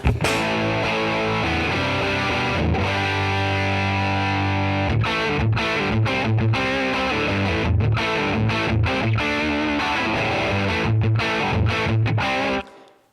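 A distorted electric guitar through a Guitar Slinger Products RB1011 MKII booster pedal into a Fender Deluxe Reverb amp set around 4 to 5, playing sustained chords and riffs, loud and saturated, ringing out before cutting off at the end.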